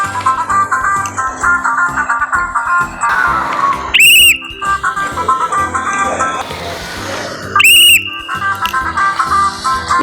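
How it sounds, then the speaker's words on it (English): A toy whistle is blown twice in short, shrill bursts to steer a Coding Express wooden toy train on an IKEA Lillabo track, heard over the toy's own electronic sounds and music. "we can also use whistle to control our Coding Express."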